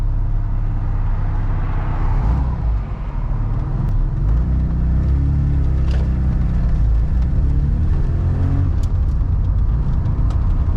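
A 1982 Ford Escort XR3 with a Weber carburettor on the move, its engine droning steadily with road rumble, dipping briefly as if easing off before pulling on again.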